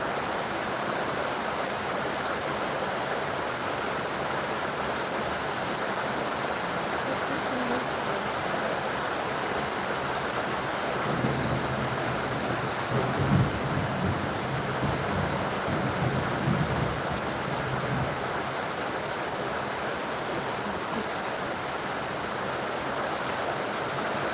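Steady heavy rain hisses continuously, with a low rumble of distant thunder rising briefly in the middle.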